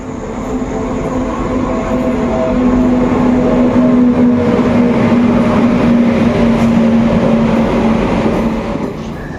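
An overnight train bound for Panskura rumbles along steadily, a continuous loud rolling roar with a sustained tonal whine and no voices.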